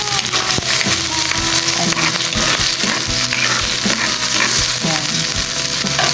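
Potatoes and leftover roast chicken sizzle and crackle steadily in hot oil in a pan, a dense continuous frying hiss with scattered pops and occasional stirring scrapes and knocks throughout.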